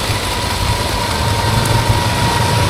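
A Honda ATV engine runs steadily on a trail, a continuous close engine drone with little change in pitch and no talk over it.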